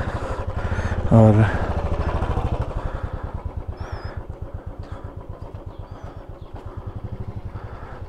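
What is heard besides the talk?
motorcycle engine while parking the bike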